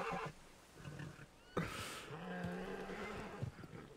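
A horse in the video game Red Dead Redemption lets out a loud whinny after a sharp impact, the neigh sliding and wavering over quiet game ambience, with faint snorts before it.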